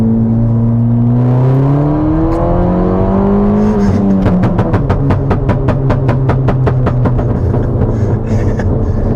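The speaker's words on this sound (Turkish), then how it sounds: "Egzozu konuşuyor." Ford Fiesta ST with a Stage 2+ tune revving in sport mode; the engine climbs smoothly in pitch for a few seconds, then breaks into a rapid burst of sharp exhaust pops and crackles, loud and close throughout.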